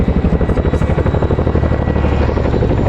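Helicopter at an RAF airshow hovering and positioning to set down an underslung load, a loud, close, continuous rotor thump with steady engine drone and no talk.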